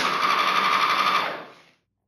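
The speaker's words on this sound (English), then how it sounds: "Paper towel machine I found at a coffee shop." Paper towel dispenser machine in a coffee shop, a continuous buzzing motor whir lasting over a second before winding down and stopping, heard close and alone.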